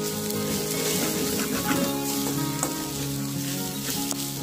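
Chili powder sizzling and frying in a pan as it is stirred through cooking pieces, a steady close crackle with scraping stir sounds throughout, no voices.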